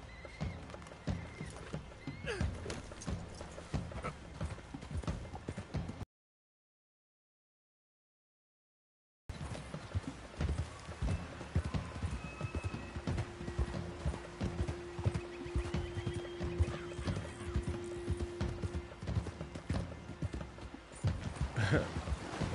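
Rhythmic clip-clop of horse hooves galloping continuously in Red Dead Redemption 2, with a neigh and a brief silent gap partway through; no voices.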